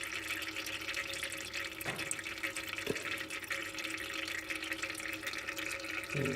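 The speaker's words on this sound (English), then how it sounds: "Still pumping water here." Water trickles and drips steadily from the engine of a 1974 Toyota Hiace camper van as its water pump runs, a faint continuous flow with a couple of brief clicks.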